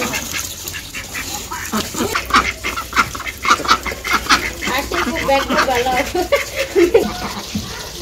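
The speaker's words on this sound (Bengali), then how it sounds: "রাজহাঁস খাই দেখে" Geese honk and quack in a rural village yard while feeding, the calls coming in a busy irregular series of bursts at close range, with voices and farmyard bustle mixed in.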